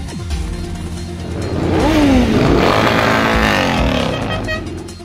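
Motorcycles at a biker season closing event rev loudly and close by, one engine's pitch sweeping up and down in a sustained roar with a rougher engine rumble underneath.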